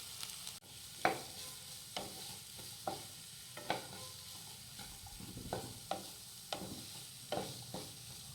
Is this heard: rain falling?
no